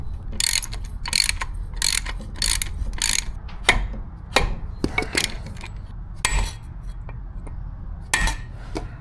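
Mechanical clunks and ratcheting clicks come from an old outboard motor on a 1969 Thunderbird tri-hull boat as it is shifted into gear, with repeated bursts of metallic clatter at a close distance.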